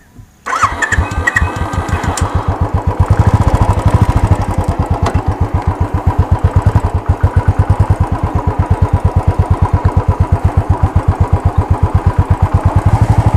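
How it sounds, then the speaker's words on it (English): A 2016 Royal Enfield Classic 350 motorcycle starts with a short crank, then its single-cylinder engine thumps loudly and close, revving up and settling into a steady, rapid pulsing idle and throttle blips. "the engine feels a lot lighter to rev"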